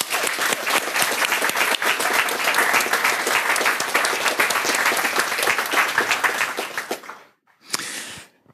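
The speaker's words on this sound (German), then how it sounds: "Und da bitte ich nochmal um Applaus." Audience applause at a youth hackathon closing event in Ulm, loud dense clapping from many people for about seven seconds, then fading with a brief final burst of claps.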